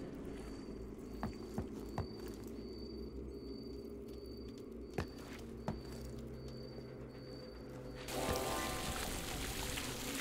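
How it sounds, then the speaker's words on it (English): Water starting to flow in Fable 2 during the Hero of Strength ritual, with a sudden loud rushing pour that rises out of quiet ambience with bird coos and scattered drips. "Both of us to get the water flowing."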